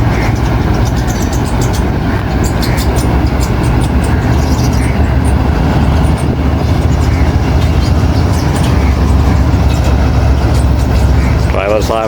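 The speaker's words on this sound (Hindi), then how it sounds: "तो ये एट अ टाइम दोनों का डिपार्चर हो गया है, मगर ये फैसलाबाद ब्रांच लाइन पे जाएगी सर सैयद एक्सप्रेस" The Sir Syed Express pulls out of Khanewal Junction, a loud continuous rumble of rolling wagons with rattling clatter close by, and a brief higher tone rising at the very end.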